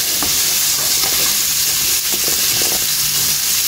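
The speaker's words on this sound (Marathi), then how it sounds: "ताका बरो तडका दिता." Tadka tempering for masoor dal in hot oil, a loud, dense, continuous sizzling hiss close up, with small pops and crackles all through it.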